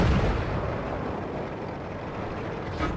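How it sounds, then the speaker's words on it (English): Enemy artillery fire in World of Tanks arrives as a heavy boom at the start, then a dense rumbling wash with another burst near the end. "here comes their arty"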